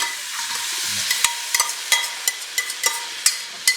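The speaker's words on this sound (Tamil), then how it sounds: "இதை நல்லா மிக்ஸ் பண்ணிவிட்டு நம்ம வேக வச்சுருக்கோம்ல மட்டன், அதை வந்து இதில் சேர்த்துக்குவோம்" Cooked mutton is stirred into masala in a pan, a spoon clacking and scraping in rapid, uneven strikes over a bright frying sizzle, loud and close with no one speaking.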